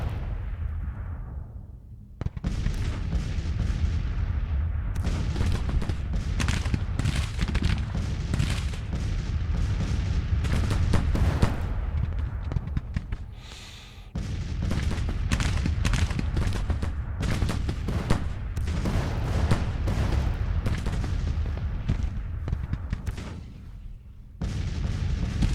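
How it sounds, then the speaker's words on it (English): Artillery fire in the Civil War strategy game Grand Tactician, a continuous rumble of cannon booms and crackling musketry with no talk, dipping briefly midway and at the end. "Some excellent work with the artillery from the AI here."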